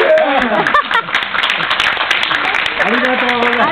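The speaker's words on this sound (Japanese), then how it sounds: "拍手。" An audience applauds a speaker at a school gathering with sustained crowd clapping, while a voice talks over it on a microphone.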